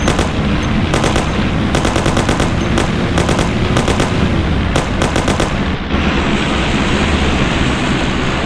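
Rapid machine-gun bursts in the 1930s gangster game Mafia: The City of Lost Heaven, loud and close, repeated volleys of sharp rattling shots over a constant engine roar, stopping near the end.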